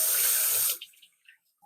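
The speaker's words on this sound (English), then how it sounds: "I'm going to wash my hands" Hot and cold taps run together into a sink for hand washing. The water rushes briefly and cuts off after less than a second, leaving near silence.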